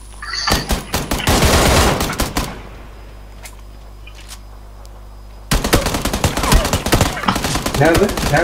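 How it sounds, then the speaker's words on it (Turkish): Bursts of automatic gunfire crack out in PUBG Lite, a dense volley up front, a quiet gap, then another sustained stretch of rapid shots, loud and close. "Nereden vuruyor ya? Arkamızdan geldi."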